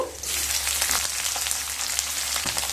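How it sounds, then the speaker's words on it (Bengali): Garlic and onion frying in a pan with a steady, close sizzle and crackle, alone with no talk, for a dish of yard-long beans and shrimp. "রসুন আর পেঁয়াজকে হালকা ভেজে নিয়ে তারপর ফিরে আসছি"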